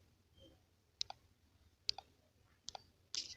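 Computer mouse clicks on a save button in MetaTrader 5 trading software, four crisp, quiet double clicks spaced about a second apart over near silence.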